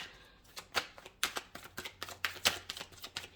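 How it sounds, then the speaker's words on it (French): A tarot card drawn from the deck: a run of quick papery flicks and card slides, close and crisp, irregular taps over a few seconds with no talking. "je vais tirer une carte entre ces deux et une carte entre ces deux pour comprendre"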